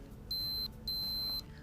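Two high electronic beeps from a FreeStyle Lite blood glucose meter signalling a finished test, the first short and the second longer, clear against a quiet low background.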